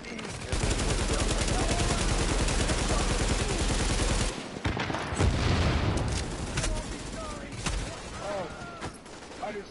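Rapid automatic gunfire in the online shooter The Division, loud sustained bursts for about four seconds followed by scattered shots, with talking over it.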